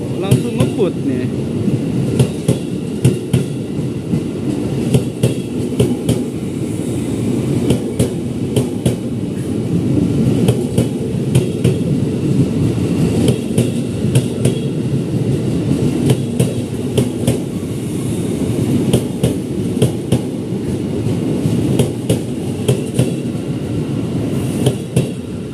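A train speeds through Jatinegara station in Jakarta, a steady loud rumble with repeated rail clacks running throughout at close range, with no voices.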